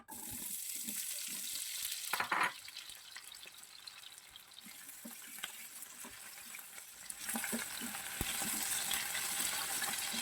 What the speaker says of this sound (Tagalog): Prituhin ko muna yung patatas tsaka carrots guys.